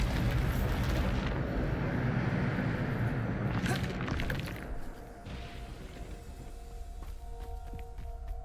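A Bombarda spell explosion goes off in Hogwarts Legacy as a loud, sustained roaring blast with crackling debris that fades into a lower rumble. A sharp crash follows midway, then scattered combat clatter.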